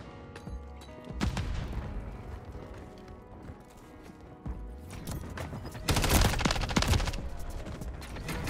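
Shotgun blasts in Call of Duty MW3 multiplayer, with sharp close shots in quick clusters over running footsteps and match noise, and the heaviest volley near the end.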